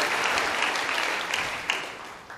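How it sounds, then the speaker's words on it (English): Audience applause at a United Conservative Party of Alberta leadership debate, a dense, loud burst of clapping that gradually tapers over a couple of seconds. "give them all a round of applause"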